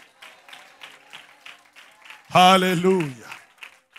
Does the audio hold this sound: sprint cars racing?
no